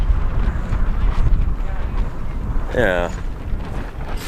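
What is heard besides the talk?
wind blowing at outdoor dinosaur dig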